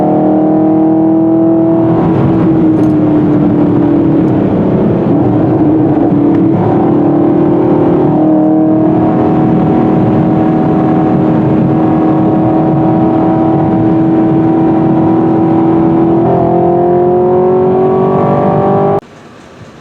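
A 2020 Chevrolet Camaro 2SS in track mode, its engine loud and steady from inside the car, a droning exhaust note that rises and falls slightly with throttle for nearly twenty seconds before abruptly stopping.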